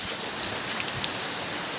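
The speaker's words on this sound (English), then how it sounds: "it's raining hard" Hard rain pouring down outdoors during a rainy-day workout, a dense, steady hiss of drops on surfaces with occasional louder splats, no talking.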